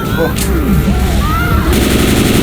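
Gunfire in the zombie shooter Left 4 Dead 2 during the Hard Rain campaign in Milltown: rapid, loud shots, with voices talking over the shooting.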